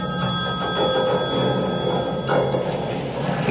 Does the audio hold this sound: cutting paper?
no